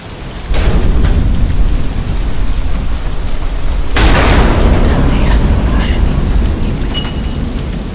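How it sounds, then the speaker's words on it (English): A loud thunderstorm with steady heavy rain and a sharp thunder crack partway through, followed by rumbling as the downpour continues. "damn storm."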